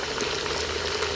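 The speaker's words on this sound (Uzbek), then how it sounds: "Go'shtlarni qovuryapmiz." Chicken meat sizzles and bubbles in a pot of hot oil while frying for pilaf, a steady close crackle throughout the short moment.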